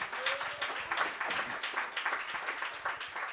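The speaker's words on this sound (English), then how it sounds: "Guys, big round of applause for that." Audience applause after a chat with a technology company founder, a steady crowd of clapping hands with dense, even texture throughout at moderate, slightly distant loudness.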